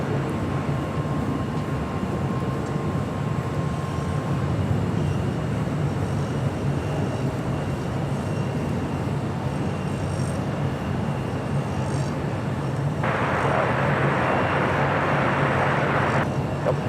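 Steady, loud roar of airliner jet engines at LAX airport fills the whole stretch, a continuous broadband rumble with a brighter hiss rising near the end.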